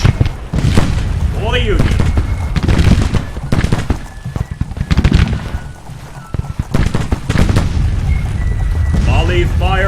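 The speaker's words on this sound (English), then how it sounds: "I'm also going to start returning fire with the artillery here." Artillery and rifle volleys in the Civil War strategy game Grand Tactician: irregular sharp gunshot cracks and booming cannon blasts over a rumbling battlefield, with a voice speaking between the shots.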